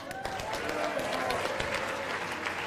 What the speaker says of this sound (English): Really quick round of applause all round